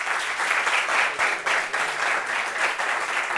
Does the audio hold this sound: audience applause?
yes